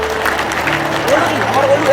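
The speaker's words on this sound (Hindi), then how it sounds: "जोरदार तालियां बजाएं माननीय नरेंद्र मोदी जी के लिए" Applause from an audience honoring Narendra Modi at a university event in Sagar, a short burst of crowd clapping mixed with voices and murmur.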